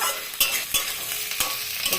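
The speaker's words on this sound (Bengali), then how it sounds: "দিয়ে নাড়াচাড়া করছি। নাড়াচাড়া করে একটু ভাজা ভাজা করব" Onion, tomato and chilli sizzle loudly in a pan while a spatula scrapes and stirs in quick, regular strokes, close up and without voices.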